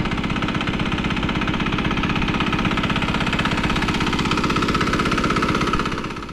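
A diesel engine throttled down to idle runs alone with a steady, rapid knocking chug, close and even throughout, then fades slightly at the very end.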